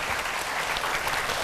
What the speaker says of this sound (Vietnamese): vỗ tay cho anh làm này mọi người